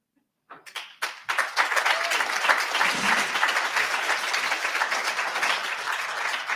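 Applause from a crowd at a peace summit in Toronto, starting with a few scattered claps and swelling quickly into sustained, dense clapping that holds steady throughout.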